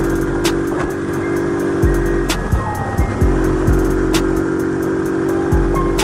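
A Trail 70 style motorbike, a CT70 clone, rides off-road with a loud, steady engine drone close by, punctuated by repeated clicks and knocks from bumps along the trail.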